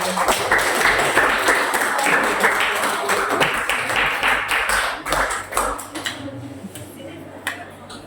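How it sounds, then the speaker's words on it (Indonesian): Classmates clap for another group's video, a scattered patter of hands that thins out toward the end while a voice talks over it. "Boleh tepuk tangan untuk kelompok lain"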